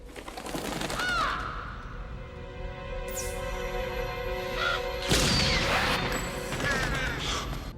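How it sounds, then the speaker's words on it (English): Crow caws in a film scene from The Crow, a few harsh calls standing out over a dense, loud soundtrack of music and effects, with no talk. "Leading to the scene where they incapacitate the crow."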